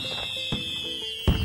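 A festive fireworks salute effect: a steady high whistling tone runs throughout, with two short bangs bursting through it, one early and one louder near the end, brief and unaccompanied by voices.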